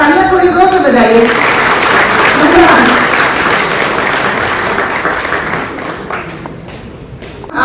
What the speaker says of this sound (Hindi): तालियां थोड़ी जोर से बजाइए।